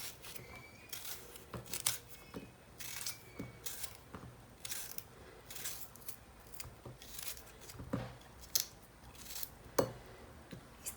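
Aloo bukhara plums chopped into small pieces with a knife on a board, a quiet series of crisp cutting taps in an irregular rhythm, close and faint.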